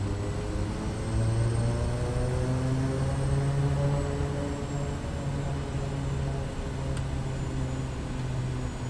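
Aircraft engine in a flight simulator spooling through a takeoff on a very long runway, a loud steady drone with a constant hum that holds evenly throughout, with no voices.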